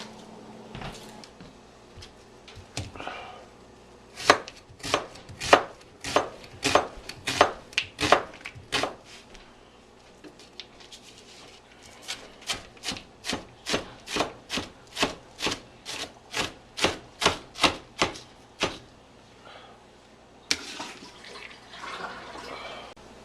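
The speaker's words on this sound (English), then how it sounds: "now that I got my onion diced up" A big onion being diced with a knife on a cutting board, long runs of rapid, evenly spaced chops, close and crisp, with brief pauses between bursts and a few softer scraping sounds.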